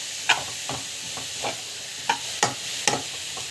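Sautéing with asafoetida, salt and ginger-garlic paste, a soft steady sizzle broken by several distinct scraping stir strokes at irregular intervals, close up and with no talking.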